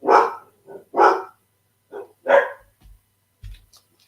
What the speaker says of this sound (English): Lots of barking.